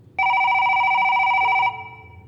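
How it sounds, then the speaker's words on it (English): A room telephone rings once in a single sustained electronic trill lasting about a second and a half, close and loud in an otherwise quiet room late at night. "the room phone rang late at night"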